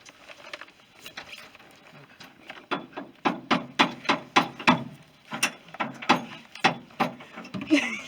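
Repeated sharp hammer knocks while installing a fuel pump on a Mitsubishi pickup, a steady run of a dozen or more blows with short gaps, fairly close and moderately loud, with faint background noise.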